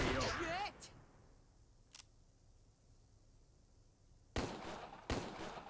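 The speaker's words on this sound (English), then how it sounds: "I think he just emptied his clip. He probably had a gun with 5 bullets in it." Gunshots in the video game Empire of Sin ring out as sharp, isolated cracks, one near the start, a faint one in the middle and two louder ones near the end, with voices briefly audible.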